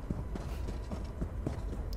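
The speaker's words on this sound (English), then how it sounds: "Horse!" Horse hooves clip-clopping in the Elder Scrolls Online video game, a steady quick rhythm of close, distinct hoof strikes on hard ground, continuous for the whole moment with no talking.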